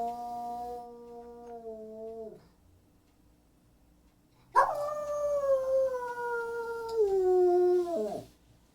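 A dog howls in two long, wavering calls with a pause between, the second louder and drawn out, sliding down in pitch at the end, close and clear with no talk over it.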